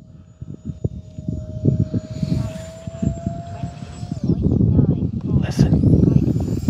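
A Horizon Hobby A-10 Thunderbolt V2 RC jet makes a steady electric ducted-fan whine on a short takeoff, rising and passing over loud outdoor wind rumble while people talk and exclaim nearby.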